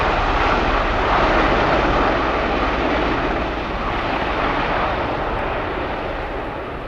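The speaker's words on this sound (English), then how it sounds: "The V-22 Ospreys." V-22 Osprey tiltrotor aircraft flying at an airshow, giving a loud, broad, continuous engine roar that holds steady and then eases slightly as it passes, with no talk over it.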